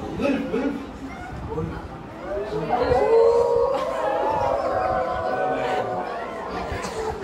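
Several people mimic wolf howls with rising and falling wails, overlapping amid crowd chatter and laughter, fairly close.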